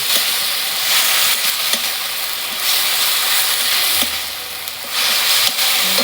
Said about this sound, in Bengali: পেঁয়াজটা ভাজা হয়ে গেছে, এবার টমেটো বাটাটা দিয়ে দিচ্ছি